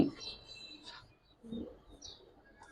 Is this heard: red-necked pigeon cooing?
yes